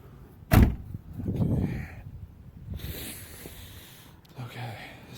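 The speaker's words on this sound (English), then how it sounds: "Shut the door." A door on a 1979-1983 Datsun/Nissan S110 shuts with one sharp, close thud early on, followed by quieter shuffling and handling noises.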